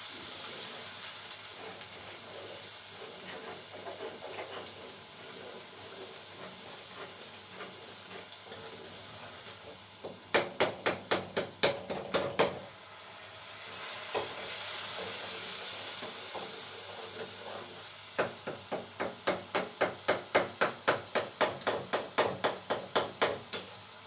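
Masala with kalonji roasts in a pan, a steady soft sizzle and hiss broken by bursts of rapid rhythmic tapping or stirring clicks against the pan.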